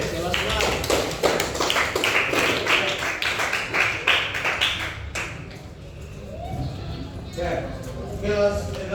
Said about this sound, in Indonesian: kita kasih aplaus untuk kelompok B, kelas 6